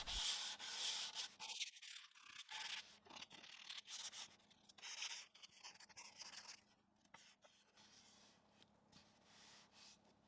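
Hand sanding of wood for a silverware tray, repeated rasping back-and-forth strokes of sandpaper, close but quiet, with irregular pauses and faint rubbing between strokes.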